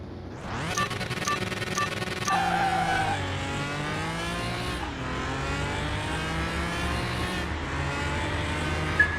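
A supercharged Mustang in a car-mechanic video game races with a loud, continuous engine whine that rises and falls through gear changes, tyres squealing as it corners, with no talking.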